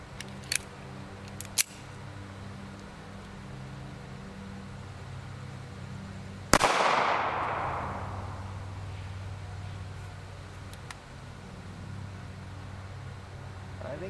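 A single loud 9mm gunshot, a 147gr Winchester LE bonded JHP fired into clear ballistic gel, a sharp crack followed by a decaying echo, with faint clicks and handling noise beforehand.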